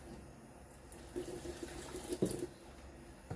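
Water is poured into an emptied cream container in a kitchen during carbonara cooking, a quiet trickle and faucet-like splash with a few soft knocks and clinks, faint and close.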